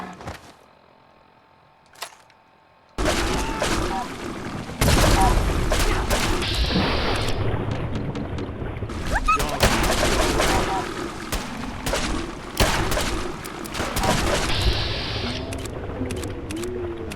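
Gunfire erupts in Fallout 4 around Far Harbor: after a near-silent stretch with one isolated shot, a dense, loud barrage of overlapping shots and impacts runs continuously, with voices calling out under the fighting.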